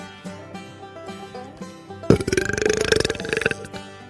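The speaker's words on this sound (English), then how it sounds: "I can belch on cue, both in and out" A long, loud, rumbling belch starts abruptly and rattles on for over a second, close up, following some quieter gulping sounds.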